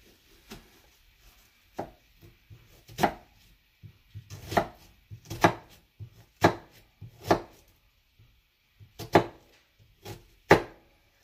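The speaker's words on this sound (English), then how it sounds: "Then some cuts along the length of the onion." A knife cuts an onion on a cutting board in a series of irregular, close, crisp chops. The chops come in quick clusters separated by short quiet gaps.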